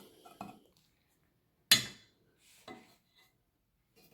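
Cast iron pans, a 10-inch and a 12-inch, being handled in a home kitchen, giving a few sparse metallic clanks and scrapes, one sharp louder knock amid quiet, no talk.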